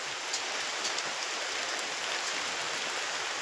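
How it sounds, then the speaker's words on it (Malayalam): Steady rain pours down near a resort, a dense, even hiss of drops falling continuously on surfaces with no break or voices. "എന്ത് മനോഹരമായ മഴയാണ് പെയ്യുന്ന"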